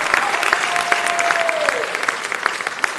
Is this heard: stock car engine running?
no